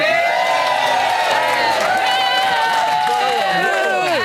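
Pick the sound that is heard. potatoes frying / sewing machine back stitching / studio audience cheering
studio audience cheering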